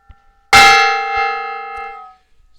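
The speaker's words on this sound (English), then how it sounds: "Oh, Ig wants me to hit the gong." A gong is struck once, loud and close, its bright metallic ring sustaining and slowly fading for well over a second before silence.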